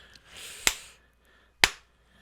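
Two crisp, isolated handclaps from a song snap out about a second apart, each a sharp bright transient over a faint, hushed backdrop.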